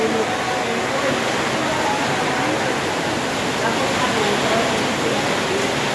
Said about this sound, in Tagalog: Grabe guys ang ulan lakas